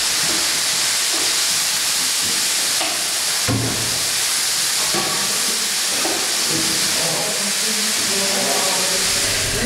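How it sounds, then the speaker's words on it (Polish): Bacon and diced onion fry in a pan with a steady, dense sizzle and hiss that holds loud and close throughout, broken by a few brief stirring knocks. "Do podsmażonego boczku na złoty kolor dosypujemy pokrojoną w kosteczkę cebulkę i też wszystko ładnie podsmażamy"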